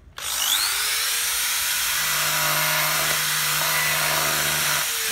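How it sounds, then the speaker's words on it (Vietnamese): A used cordless hammer drill starts up and runs steadily for several seconds, a loud whining motor with a buzzing hammer rattle, close up and without talk, then spins down at the end. "Con này búa mạnh dễ sợ luôn mọi người"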